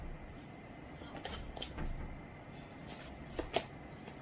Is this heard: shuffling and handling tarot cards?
yes